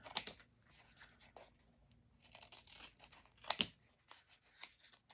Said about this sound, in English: You could tear them, but in this case I'm going to cut.